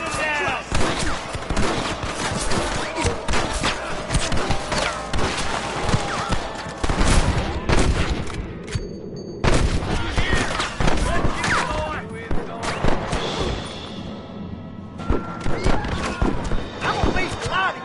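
Gunfire in Red Dead Redemption, dense overlapping shots and volleys in rapid bursts with horses and shouting voices mixed through, loud and near throughout.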